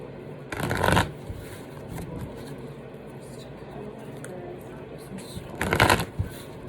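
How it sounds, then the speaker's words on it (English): Playing cards shuffled during a tarot-style reading, two short close riffle bursts separated by quiet room tone. "Shuffle one more time."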